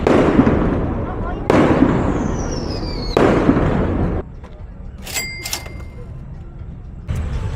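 Fireworks and firecrackers bursting outdoors during an evening wait in a queue at a food stand in Valladolid, Yucatan: heavy rumbling booms and crackling volleys, a whistling rocket, then sharp firecracker pops in quieter gaps.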